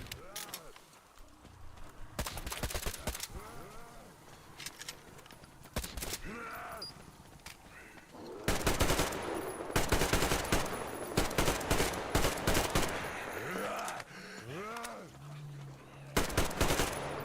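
Bursts of suppressed gunfire from a jamming rifle in the video game Metro Exodus, fired in short and longer strings through the clip, loud and close, with other game sounds and a voice talking around them.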